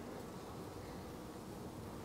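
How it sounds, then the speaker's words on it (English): Honey bees humming in an open beehive during an inspection, a dense steady buzz that holds close and even throughout with no other sounds over it. "there's a bunch of bees here"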